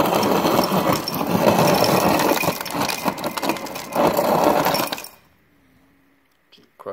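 Rattling, grinding clatter of crushed ice tumbling out of an LG 27 cu. ft. side-by-side refrigerator dispenser (model LHSXS2706S) for about five seconds, then stopping abruptly into near silence.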